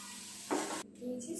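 Soya chunks fry in a pan in a home kitchen, giving a brief burst of sizzling hiss that fades quickly, with a faint voice nearby.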